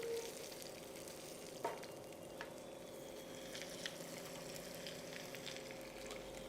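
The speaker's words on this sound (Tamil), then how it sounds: "கொஞ்சம் முந்திரி கொஞ்சம் சேர்த்துக்கலாம் தாளிப்புலே" Cashews crackle in hot oil as part of the tempering for a Chettinad mutton gravy, a steady quiet sizzle with a few soft clicks and stirring taps, no talking.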